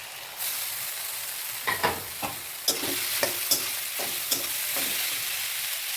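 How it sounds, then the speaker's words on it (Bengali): Chopped pumpkin goes into a pan of fried onion and green chili and sizzles steadily, with a string of sharp spatula clinks and scrapes as it is stirred. No one speaks. "পেঁয়াজ লঙ্কা ভাজা হলো, এখন দিয়ে দেব কুমড়ো।"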